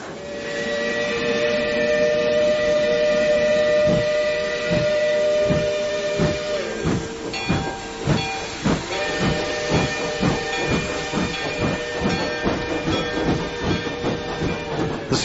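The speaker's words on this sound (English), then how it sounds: "The special train sent by the railroad company made a swift, unbroken journey away from the land of coal, iron, clank, and roar." A steam train departs in a radio drama effect, starting with a loud hissing steam blast under a sustained whistle tone, then settling into a steady, quickening chuff of the engine pulling away.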